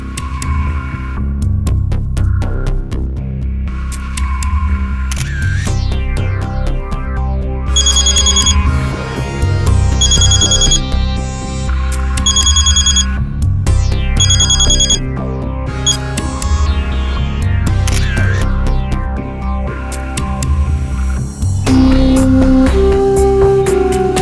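A phone ringtone chimes in repeated bursts over a loud, dense musical backdrop with a steady low hum.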